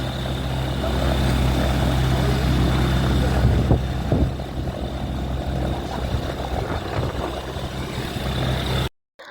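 A small aircraft's engine drones loudly and steadily during a pleasure flight, a constant propeller hum heard from inside the cabin. It cuts off abruptly just before the end.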